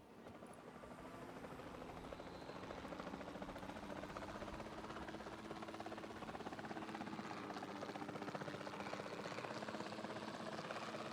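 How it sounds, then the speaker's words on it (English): Helicopter in Jurassic World Evolution 2, a steady, close rotor thrum and engine whine holding at an even loudness throughout, with no talk over it. "Let's jump in a helicopter then"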